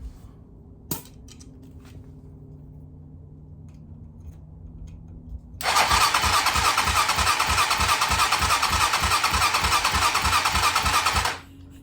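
A motorcycle engine cranks over on the starter during a compression test for a no-start fault, a steady rapid pulsing whir that starts suddenly partway through, runs loud and close for about six seconds, then stops abruptly.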